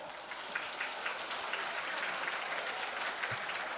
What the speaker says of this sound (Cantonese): 俾一齊俾啲掌聲俾佢哋先